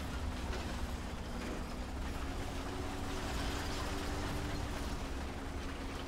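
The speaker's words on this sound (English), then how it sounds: "I think I heard an engine off to the right here." Tank engine in the War Thunder game, with an M10 Achilles 17pdr self-propelled gun nearby: a steady, continuous low rumble with a droning hum, constant in level and fairly close throughout.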